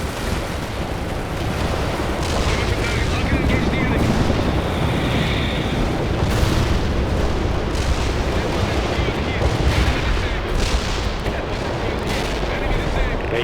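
Sustained artillery barrage in the World in Conflict battle game, with dense rumbling bursts of cannon fire and explosions rolling continuously, loud and close, mixed with gunfire and occasional voices over the din.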